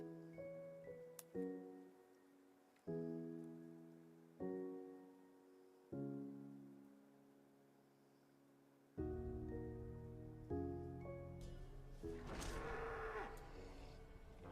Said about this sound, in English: Sound like we got a big cow